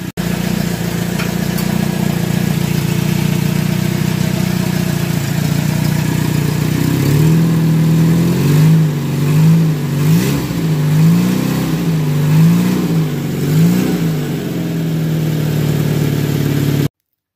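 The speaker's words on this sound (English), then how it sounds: "The car is running." A Renault 10 car engine runs at a steady idle, then revs up and down in several repeated rising and falling pulls before settling back to idle, loud and close, with no talking over it.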